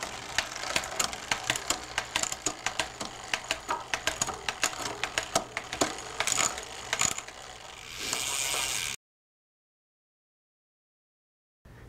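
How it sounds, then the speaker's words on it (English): A bicycle rear derailleur shifts through its gear range while the drivetrain spins, giving a rapid run of sharp mechanical clicks and ticks for about eight seconds, then a brief whirring before silence. "You can also test the shifting in both the large and small chainring positions to make sure that it's shifting well through your entire gear range."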